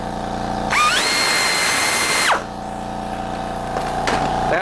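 A power drill whines up to speed and bores a hole in a Honda transmission part for about a second and a half, then stops, leaving a steady background hum and faint clatter.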